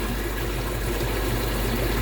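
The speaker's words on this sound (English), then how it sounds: "Water flowing really nice." Water pours steadily through a garden pond filter overflow, a close, loud and continuous rushing splash with no breaks.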